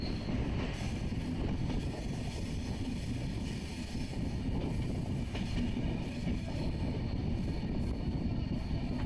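A train runs along the Visakhapatnam to Araku line, a steady dense rumble with wheel and carriage noise that holds level throughout, heard from on board with no talking.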